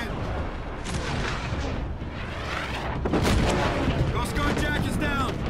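Sustained bursts of gunfire and heavy booms in a Call of Duty: Infinite Warfare firefight, dense and loud, rolling on without pause alongside radio-style voices.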